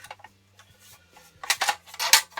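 Metal parts of a Trangia mess kit knocked and set together, a few short clinks and rattles of pot and burner pieces, close and brief with no talk.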